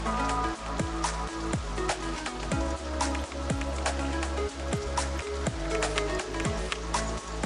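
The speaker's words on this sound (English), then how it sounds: "Oh, here's some rain immediately!" Rain falling in OpenRCT2, the theme-park building game, a steady hiss of drops mixed with looping background music and repeated swooping game sounds, kept at an even level throughout.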